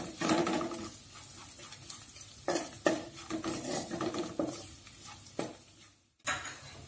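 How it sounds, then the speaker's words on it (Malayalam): Spice powders of chili and garam masala stirred in a pan with a spoon, a steady scraping and clinking pattern with several sharper knocks against the metal, close and fairly loud, no voices. "ഇനി പൊടികളൊക്കെ നന്നായി മിക്സ് ചെയ്തെടുക്കാം."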